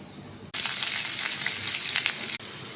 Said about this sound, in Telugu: ఉప్పు, పసుపు, ధనియాల పొడి, మసాలా ముద్ద వేసి ఒక 5 నిమిషాల పాటు వేపుతున్నానండి